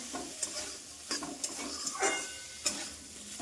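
Food fries in a pan while being stirred, a close, moderate sizzle punctuated by a series of sharp scraping clicks of a spatula against the pan at irregular intervals.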